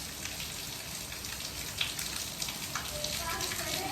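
Heavy rain pours down steadily on a farm field, a loud dense hiss of drops on surfaces with no pauses.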